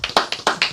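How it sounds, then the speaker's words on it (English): Hands clap four times in a quick even rhythm, close and crisp, with no voices over them. "I gotta clap it up for them when they do something good"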